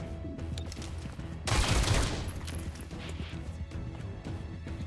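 A burst of gunfire in the XCOM: Chimera Squad video game, with a loud dense volley cutting through steady game background sound.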